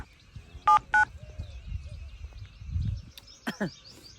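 Two short touch-tone dialing beeps sound close together on a phone during a Gujarati comedy sketch, followed by faint background noise and low murmuring.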